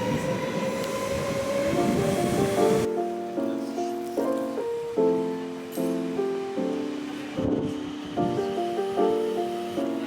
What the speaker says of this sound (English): Today we're taking the train to Amsterdam.